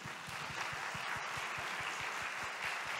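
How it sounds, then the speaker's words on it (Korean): A conference audience applauds at a creator-industry finance presentation, a steady, moderately distant wash of clapping that holds for a few seconds without a break. "큰 박수 부탁드리겠습니다"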